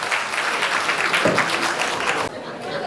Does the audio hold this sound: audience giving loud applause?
yes